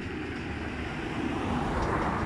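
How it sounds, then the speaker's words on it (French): Traffic passing on a road: a broad, steady roadside rumble and hiss of cars going by, swelling slightly louder toward the end, with no speech over it. "Il y a encore des voitures qui passent."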